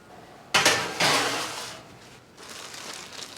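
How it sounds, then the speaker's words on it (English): A metal baking sheet clatters loudly as it slides onto an oven rack for preheating, followed by a second scraping rattle and a softer metallic rumble fading away. "I'm going to preheat this baking sheet in the oven"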